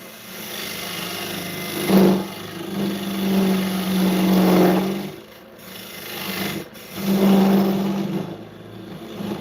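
Wood lathe tool cutting the inside of a bowl dovetail, a close rasping scrape in three sustained passes with brief pauses between them over the steady hum of the spinning lathe.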